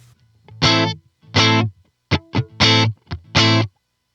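An electric guitar runs through a Line 6 POD Go with the room reverb block's mix set to zero, giving a bone-dry, distorted tone: six separate notes or chords that stop cleanly with no reverb tail.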